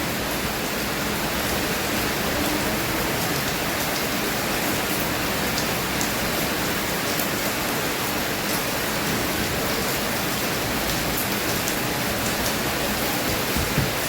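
Steady, dense rain falls at the start of the monsoon season, a continuous hiss that fills the whole stretch evenly and close by, with no voices.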